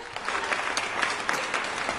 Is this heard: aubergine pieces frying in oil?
no